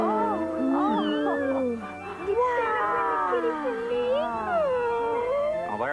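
A cartoon kitten mews repeatedly in an animated Christmas story, a string of high, wavering, slightly whiny cries that rise and bend in pitch, fairly close and clear against a faint background.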